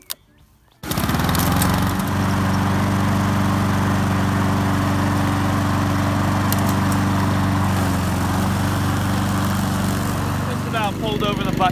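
A motorized lawnmower engine, a manual push mower converted to run automatically with rubber bands on its wheels, roars steadily and loud close by after a brief quiet start, a continuous droning hum lasting the whole stretch.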